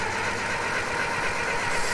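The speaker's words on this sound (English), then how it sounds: "Let's just let it idle." A 1924 Model T Ford engine, long left sitting, idles in a steady, close, throbbing chug with a rough mechanical clatter and no talking.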